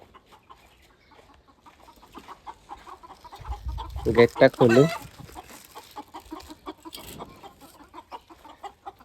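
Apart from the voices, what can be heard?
chickens clucking in a coop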